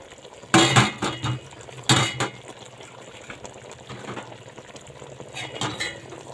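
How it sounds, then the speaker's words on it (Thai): A utensil scraping and clanking against a pot while stirring Thai chicken curry (gaeng om gai) with vegetables, a few loud bursts of metallic scraping separated by quieter bubbling, close up with no talking. "แล้วก็คนให้เข้ากันจ้ะเพื่อนๆ"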